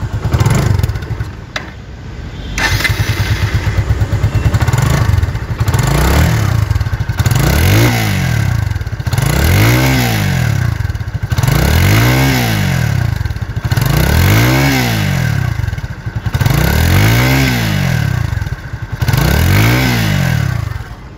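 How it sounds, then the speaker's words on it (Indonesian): A Kawasaki W175 motorcycle engine runs steadily at close range, its pitch rising and falling in regular revving sweeps, with no voices. "itu dia suara dari W175 KV"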